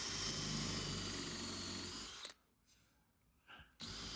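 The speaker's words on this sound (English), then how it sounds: "I'm just going in, countersinking, and making them for them plugs there" A power drill runs steadily, countersinking screw holes in wood to take plugs, loud and continuous for a couple of seconds before cutting off, followed by a near-silent gap with a brief clatter and then the drill starting again.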